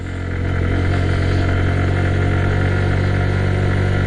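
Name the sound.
loaded motorcycle climbing in first gear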